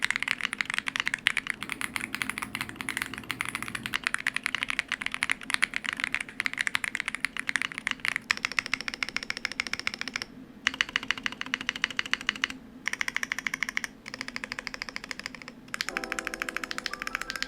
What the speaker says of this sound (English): here's how the board sounds in its stock configuration.